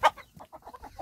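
A rooster in a backyard henhouse gives a string of short, close clucks, one loud burst at the start followed by softer, evenly spaced clucks.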